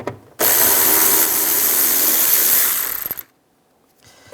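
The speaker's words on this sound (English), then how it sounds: "Using a 10mm socket, take this bolt out." A powered driver with a 10mm socket whirs steadily for about three seconds while backing out a bolt on the rear shock absorber of a 2004-2009 Toyota Prius, then cuts off abruptly into quiet.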